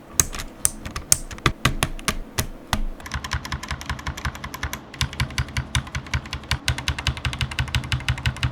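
Mechanical keyboard with swapped switches being typed on, a run of sharp, close clacks in quick irregular bursts, with a steadier rapid patter in the second half.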